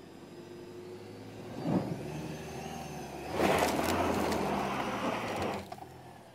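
A car climbs a slope during an off-road comparison test of a Kia Sportage, Toyota RAV4 Hybrid and Subaru Forester, its engine a steady low hum that rises twice in short surges with faint scraping, fairly distant and with no voices.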